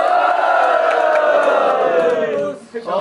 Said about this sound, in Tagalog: Sigawan niya ulit!